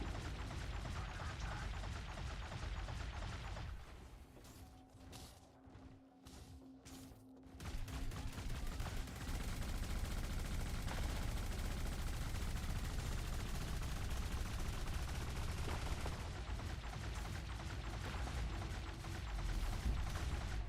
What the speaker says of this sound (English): That's because of the enemy ship shooting lasers at us.